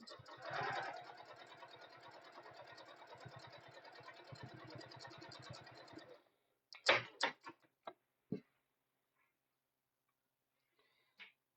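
A sewing machine runs steadily for several seconds while reverse stitching at the end of a seam on a tote bag, then stops, followed by a few scattered clicks and knocks of handling, quiet overall.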